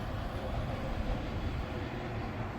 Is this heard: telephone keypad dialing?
no